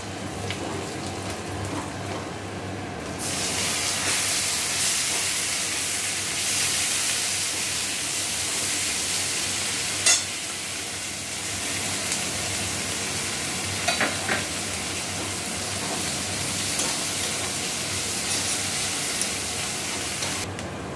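Chopped onions added to garlic fry in a pan with a loud, steady sizzle that starts abruptly, joined by a few clinks of a spoon stirring.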